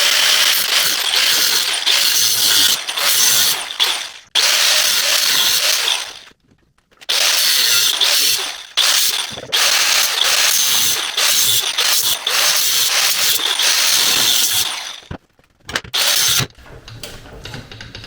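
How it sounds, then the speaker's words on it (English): A cutoff wheel cutting through an aluminum frame on a 2005 CRF motorcycle, loud harsh grinding in long bursts separated by short pauses as the tool is lifted and reapplied. "Now for this, I'm just going to use a cutoff wheel"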